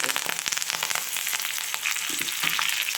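Garlic and green chillies frying in a pan for a chickpea curry, a steady loud sizzle and crackle with brief stirring scrapes, close and continuous with no talk.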